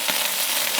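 Sauerkraut fries in a cast iron pan at a tailgate, giving a steady, close crackling sizzle that carries on evenly without a break.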